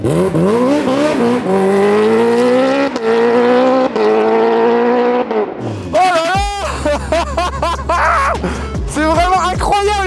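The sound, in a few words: Kawasaki H2R motorcycle accelerating through gears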